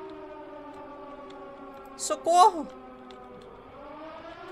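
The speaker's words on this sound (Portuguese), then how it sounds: "Por que essa sirene?" A steady, droning siren in a pizza-delivery video game (The Pizza Freak) wails throughout, while a voice cries out briefly midway before the siren carries on alone.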